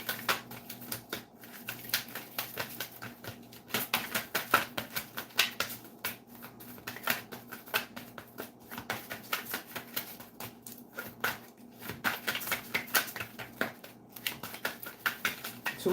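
A deck of cards being shuffled during a live tarot reading, quick soft riffling and slapping bursts repeating in clusters, close and fairly quiet, with no talking.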